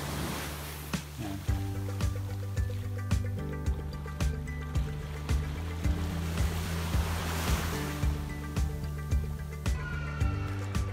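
Ocean waves wash onto the beach in front of the Sheraton at Denarau, Fiji, a steady surf roar with wind noise, overlaid by a repeating rhythmic thumping.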